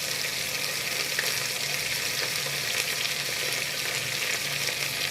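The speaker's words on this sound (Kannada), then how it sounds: "ಕರಿಬೇವಿನ ಸೊಪ್ಪು ಹಾಕಿದ್ದೀನಿ ಒಗ್ಗರಣೆಗೆ." Curry leaves sizzle in hot tempering oil with fried onions for a sambar, giving a steady, dense, close crackle throughout with no talk.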